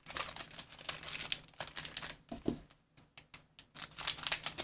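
A Z/X trading card booster pack is cut open and handled up close, with crinkling foil wrapper, a few crisp snips and rustling in irregular bursts separated by brief pauses.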